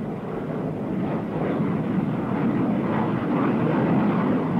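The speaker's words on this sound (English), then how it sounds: "During the launch of the attack carrier's mix of fighters and bombers" Fighter and bomber aircraft launch from an attack carrier's deck, heard as a steady, loud broadband engine roar that swells gradually with no distinct breaks.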